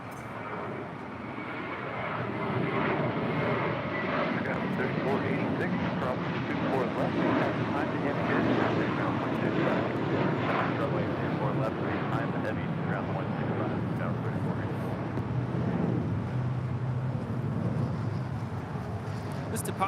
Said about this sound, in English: departing to Boston on a 6-year-old A321 with JetBlue Airways, Flight 188